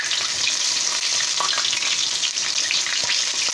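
Catfish fillets fry in hot oil in a pan, a steady, dense sizzle with crackling pops running close and loud without a break, with faint stirring sounds and no voices.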